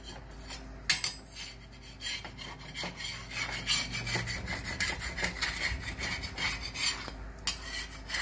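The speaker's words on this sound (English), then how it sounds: "You have to scrape it as it is stuck from the bottom side." A wheat tandoori roti stuck to a hot tava is scraped off, producing close, repeated rasping scrapes with a few sharp metallic knocks.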